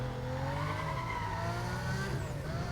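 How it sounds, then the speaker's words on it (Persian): Lamborghini Gallardo from the 2005 game Need for Speed Most Wanted accelerates hard in a 0-100 run, a loud continuous engine roar with rising revs and shifting harmonics, close and steady throughout. "بدون هیچ معطلی بریم سراغ تست 0 تا 100 این ماشین."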